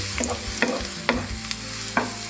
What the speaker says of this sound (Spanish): Por termino de freír ajo y cebolla